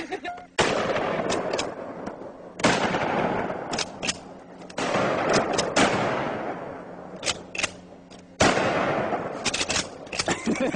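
A sawed-off shotgun fires slugs outdoors, several loud, sharp blasts spaced a second or two apart, each followed by a ringing tail.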